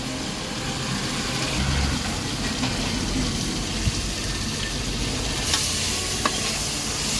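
Onions with salt sizzle and crackle steadily in a hot pan, a continuous close frying hiss with occasional small pops and stirring scrapes.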